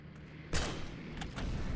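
Gunfire in the Heroes & Generals war shooter, a sharp loud burst followed by further rapid shots over a steady background rumble.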